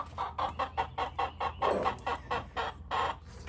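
A pet chicken clucks insistently, asking for mealworms: a rapid series of about a dozen loud, close clucks in an uneven rhythm, heard alone without talk.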